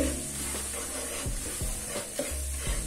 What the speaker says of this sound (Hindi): इसमें हम डालेंगे बेसन और बेसन डालकर अच्छे से भून लेंगे